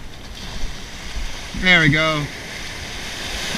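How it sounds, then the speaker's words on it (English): Big ocean waves wash onto a New Jersey beach during shark fishing, a steady broad rush of surf throughout, with someone briefly speaking over it. "Big waves."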